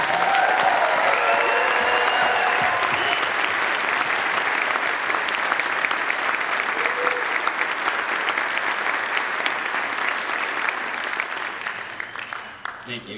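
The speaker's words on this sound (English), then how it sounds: "So can we give a round of applause?" Sustained applause from a large audience at a high school National Honor Society induction ceremony fills the space evenly, holding strong for many seconds before fading toward the end.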